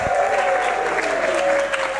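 An audience at an evening talk applauds and cheers a speaker taking the stage, steady clapping with scattered whoops and a held tone running underneath.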